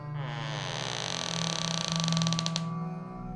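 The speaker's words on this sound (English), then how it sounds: "I turned the latch of his door and opened it" A door creaks slowly open in a spooky audiobook reading, one long drawn-out groaning creak that rises in pitch and ends in a rapid rattling stutter before stopping, close and alone.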